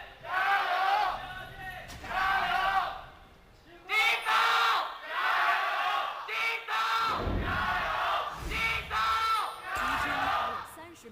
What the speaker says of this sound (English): The crowd is absolutely packed and ready for this one here to cheer on their teams